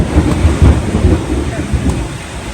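Heavy rain pours down steadily with a deep, rumbling low end, like a downpour drumming on a roof, continuous throughout.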